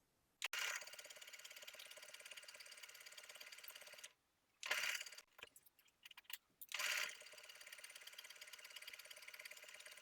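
A sewing machine stitches around the neckline of a knit top at a 3/8 inch seam allowance, a close, fast, even mechanical whir in long runs broken by short pauses for pivoting.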